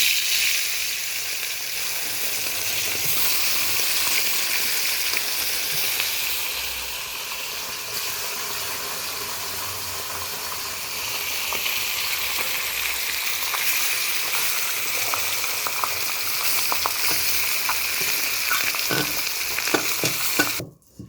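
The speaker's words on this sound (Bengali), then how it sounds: "এবার কড়াইটা গরম হয়ে গেছে, কড়াইতে মাছগুলো ভেজে নেওয়ার জন্য মাছটা তুলে দিচ্ছি।" Small pond fish frying in hot oil in a kadai, a loud, continuous sizzle with occasional crackles and stirring scrapes near the end, no one speaking.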